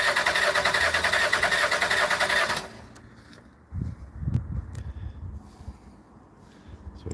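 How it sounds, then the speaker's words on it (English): A vehicle engine is cranked during pressure pulse diagnosis, with loud sustained cranking noise for a few seconds that cuts off, followed by quieter low thumps and rumble. "All I'm going to do is crank the vehicle."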